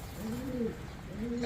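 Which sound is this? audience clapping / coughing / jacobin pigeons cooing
jacobin pigeons cooing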